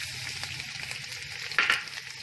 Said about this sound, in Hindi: और ज़ीरा हल्का सा ब्राउन हो जाए तो अब हम इसमें डाल देंगे लहसुन।